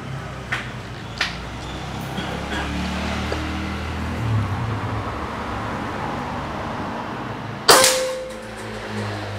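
A suppressed Bulldog OD 38 V2 PCP air rifle fired outdoors at a target, a few soft muffled pops early on and then one sharp ringing metallic clang from the hit, over a steady outdoor background.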